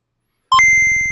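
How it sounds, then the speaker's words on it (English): Synthetic computer beeps: a short low blip, then sharp high electronic tones that settle into a sustained pulsing buzz, loud and alone, with no voices. "Computers. Beeps. Boops."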